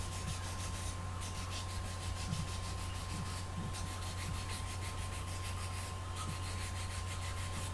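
Pencil lead being rubbed to a smooth taper against an abrasive surface, a soft continuous scraping with faint repeated strokes at low level under a steady hum, no talking.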